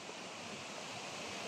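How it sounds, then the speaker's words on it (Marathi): A river gurgles and rushes in a steady, broad wash of flowing water, heard up close and continuous with no voices over it. "माझा आवाजसुद्धा तुम्हाला थोडा कमी येऊ शकतो कारण नदीचा खळखळाट सुरू आहे"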